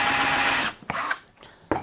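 A Total 18V cordless drill bores a hole, its steady high motor whine running loud and close before it drops off, followed by a few brief scraping bursts as the bit bites and releases.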